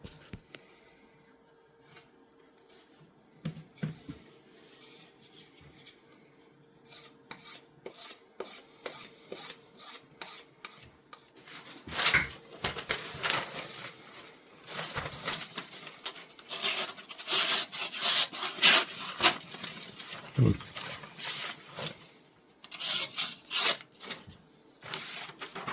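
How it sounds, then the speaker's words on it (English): A big sharpener works the blade of a soft-steel Pakistani knife in a long run of quick, rasping strokes, sparse at first and then dense and steady, close and fairly quiet with no talk. "I think I'm going to use the big sharpener."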